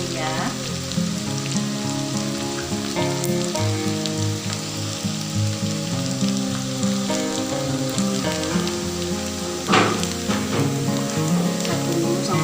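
Tempe frying in a pan for orek tempe sizzles continuously and densely, a close, steady crackling hiss like rain, with a sustained tonal background and one brief louder spatter.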